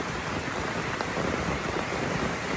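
Steady rain falling outdoors near a hut, a dense, even hiss that holds unbroken and moderately loud throughout, with no voices.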